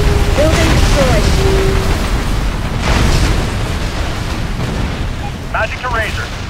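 Video game explosions as an anti-air gun and a building are destroyed: loud, continuous booming rumble with layered blasts, under game radio chatter and electronic beeps.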